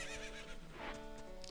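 A horse neighs in The Legend of Zelda: Ocarina of Time, a steady whinny over game music with a soft clip-clop beneath, close and clear throughout.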